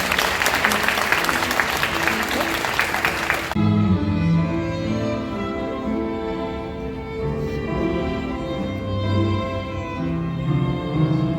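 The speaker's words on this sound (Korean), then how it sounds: "하객 여러분들의 힘찬 축복의 박수 부탁드리겠습니다" Wedding guests applaud loudly for about three seconds at a wedding ceremony, then the clapping gives way to music.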